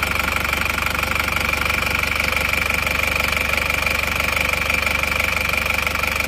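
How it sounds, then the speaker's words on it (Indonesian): An Isuzu Panther diesel engine idles steadily after about twenty minutes of warming up, a close, continuous mechanical clatter with an even knocking rhythm and no voices. "Ini mesinnya hidup sudah sekitar 20 menit kita panasi."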